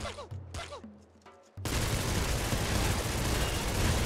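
Scythe Disperser gun fired in the Nuclear Throne Ultra Mod game, a dense, loud burst of synthetic gunfire and explosions filling the second half after a short stretch of quieter game sound effects.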